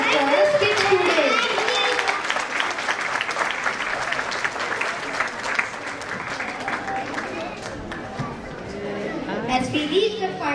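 Audience applause at a school annual day celebration for grades 3 and 4: a loud, sustained wash of clapping from a large crowd that holds steady for about ten seconds, with voices mixed in.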